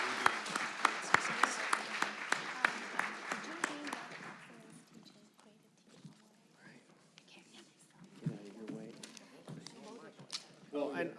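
Audience applause for a panel at a tech ethics symposium, brisk clapping for about four seconds that dies away, followed by scattered voices and movement in the hall.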